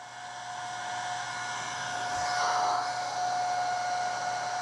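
A small portable clip-on waist fan whirs steadily up close on its fourth mode, a constant airy hum with a high whine, its level swelling slightly midway.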